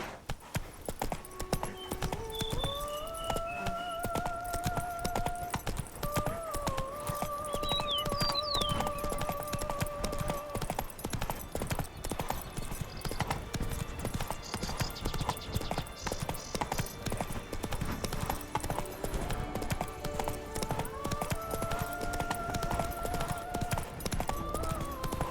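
Roach, a horse in The Witcher 3, trots with a steady clip-clop of hooves that runs throughout at moderate loudness. Layered game music and ambient sound sit under the hoofbeats.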